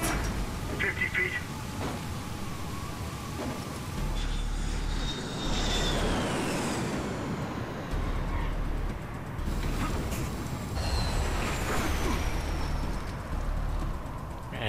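An aircraft lifting off in Splinter Cell: Blacklist, a steady engine roar that swells and whines in rising sweeps over about fifteen seconds, with radio-style voices and game effects layered over it.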